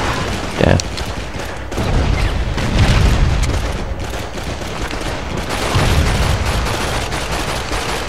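Call of Duty 2: Big Red One combat with grenade explosions and gunfire, heavy continuous booms and rattling shots mixed with shouting voices.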